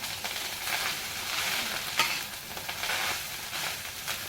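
Rice being stirred while it fries in a hot pan, a steady close sizzle with scraping stir strokes that swell and fade in turn, with no voices.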